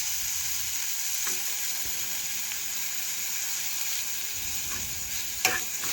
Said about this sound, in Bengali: সব পটলের টুকরোগুলোই দেখুন ভালোভাবে ভাজা হয়ে গেছে